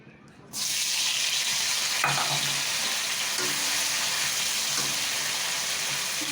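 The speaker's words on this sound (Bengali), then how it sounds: "আমি একে আস্তে আস্তে করে আমি নুন হলদি মিলিয়ে নেবো" Food sizzles loudly in a pan as salt and turmeric are stirred in, the frying starting abruptly and holding a steady hiss, with a few scraping stirs over it.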